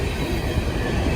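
Norfolk Southern freight train cars rolling past nearby, a loud, dense continuous rumble and rattle of wheels on rail over a brief moment.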